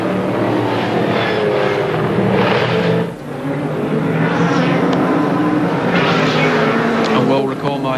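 A 1990 AMSCAR Sports Sedan race car screams uphill at Amaroo Park. Its engine roar is loud and sustained, rising and falling with gear changes, while a commentator talks over it.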